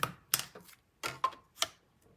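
Paper strip being cut down at a desk, giving a few short, crisp snips and clicks in an uneven rhythm, close and fairly quiet with pauses between cuts.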